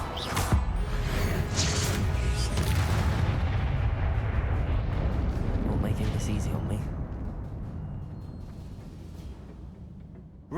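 A Confringo spell explodes in Hogwarts Legacy, a loud booming blast with crackling debris that rumbles and fades over several seconds amid other combat effects.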